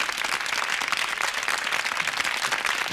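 A studio audience at a French television prank show applauds a comedian's performance, dense and steady clapping that carries on evenly throughout.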